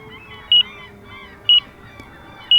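An RC transmitter timer emits short, high electronic beeps spaced one second apart, three in a row, over a faint low background hum.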